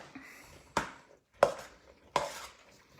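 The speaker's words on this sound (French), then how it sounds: "Une fois qu'on a ça, on vient mélanger." A spoon stirs pasta salad with cucumber in a bowl: three separate scraping clinks spaced evenly, each one sharp and close, with quiet pauses between them.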